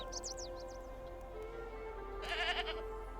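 A goat bleats in the video game Preserve, one short wavering call rising briefly over a quiet ambient music bed with chirping bird tones.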